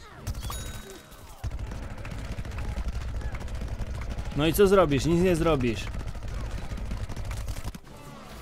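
Dense, rapid gunfire from the video game Plants vs. Zombies: Garden Warfare 2 on PlayStation 4 rattles continuously throughout, with a voice talking briefly over it in the middle.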